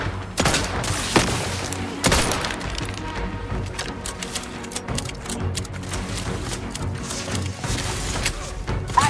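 A sustained gunfire volley fills The Outer Worlds 2 combat, rapid loud cracks and bursts rattling continuously and close, with distant booms mixed under the barrage.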